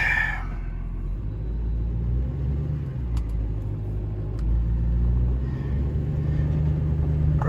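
A small truck towing a trailer drives along narrow country roads, its engine and road rumble a steady low drone throughout, close and loud.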